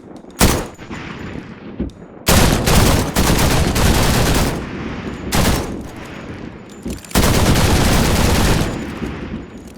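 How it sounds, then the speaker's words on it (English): Loud bursts of automatic gunfire from a recreated Arc Raiders game weapon built in Unreal Engine 5, with each shot's reverberant tail stacking into a dense roar across several sustained volleys separated by brief gaps. "So during automatic fire, the tail gets triggered with every bullet, and they start stacking up on top of each other."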